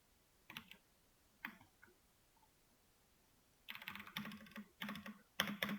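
Typing on a computer keyboard during a web development lesson: sparse isolated keystrokes at first, then quicker clustered bursts of clicking near the end, close and quiet with no talking.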